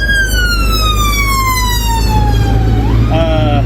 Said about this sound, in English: Wait for the sirens.